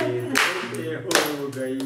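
During a family antakshari singing game, hands clap in a few sharp, scattered bursts over sung voices.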